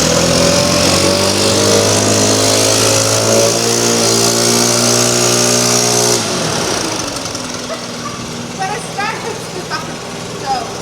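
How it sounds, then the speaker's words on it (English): A giant industrial leaf blower roars loud and steady at close range while cleaning a farm shed, its engine drone dropping off partway through as other noises and a voice take over. "I am cleaning the shed with a giant leaf blower."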